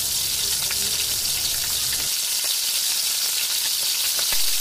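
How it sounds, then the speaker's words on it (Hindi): Coarse onion paste fries in hot oil in a wok, a bright hissing sizzle that dominates up close, shifting to a thinner crackle with occasional stirring clicks. "प्याज का दरदरा पेस्ट डालने के बाद इसे 3 से 4 मिनट और फ्राई करेंगे।"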